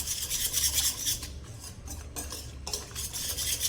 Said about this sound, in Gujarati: હવે આ બધી વસ્તુને આપણે સારી રીતે આ રીતે મિક્સ કરી લઈશું